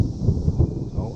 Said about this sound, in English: Oh, and you can hear the thunder.